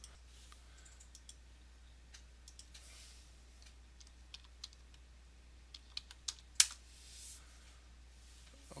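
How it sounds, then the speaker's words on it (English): Someone types a password on a computer keyboard, producing sparse, quiet key clicks scattered across a near-silent room, with a few louder taps toward the end. "now I've typed in the password properly"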